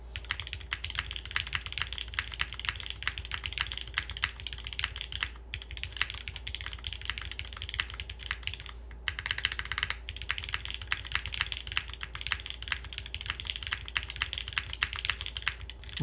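Mechanical keyboard with filmed, lubed milky yellow switches on 53.5 g springs, GMT keycaps and an aluminum plate, typed on steadily for sixteen seconds: a dense, even stream of close keystrokes with no pauses and no voices.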